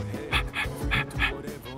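A dog in the video game Persona 3 Reload lets out a few short vocal sounds, yawn-like whines and huffs, in quick bursts close up, with soft background music.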